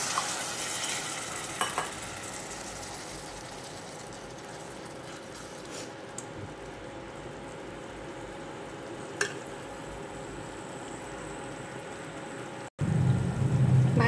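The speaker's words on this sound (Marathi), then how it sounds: "भाजीला छान उकळ यायला लागली" A pan of vegetable curry with added water bubbles and simmers at a low, steady level, with faint popping and a few soft clinks before a louder rumble at the very end.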